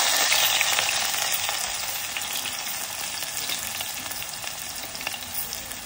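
Onion, garlic and green chilli fry in hot oil with a dense, loud, even sizzle that fades very slightly over the few seconds, close up and alone, with faint stirring under the hiss.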